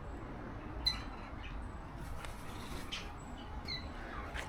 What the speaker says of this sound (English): That one I think is a cockatoo or something